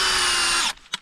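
A power drill bores a tap hole into a maple tree, running loud and steady at high speed for under a second before winding down, followed by a faint click.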